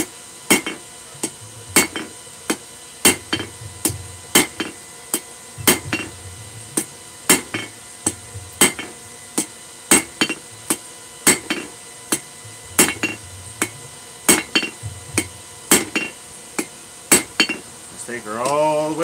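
Hot metal fresh out of a forge fire is hammered on an anvil in a steady run of sharp, ringing blows, with brief low murmurs between strikes and a rising whine near the end.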